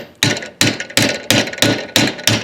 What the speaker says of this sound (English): and a hammer, and what I'm going to do is just roll that rim